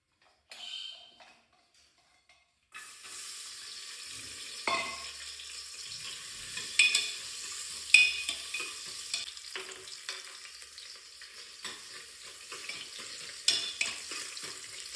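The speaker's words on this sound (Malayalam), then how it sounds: "ബീഫ് കറി എൻ്റെ ഇവിടെ വെക്കാൻ തുടങ്ങുകയാണ്" Beef curry sizzles steadily in a pan at close range, with intermittent scraping stirs and clinks over a soft, continuous frying hiss.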